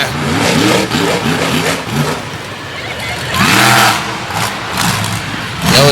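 A monster truck engine revs hard on a dusty dirt track at a Monster Power event in Radford, Virginia, its loud, close roar rising and falling in several surges.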